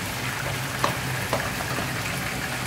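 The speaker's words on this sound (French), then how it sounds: "En attendant, nos épinards sont en train de cuire." Whole-leaf spinach cooks in a pan with a steady, dense hiss of sizzling, plus a couple of faint pops and light scrapes close by.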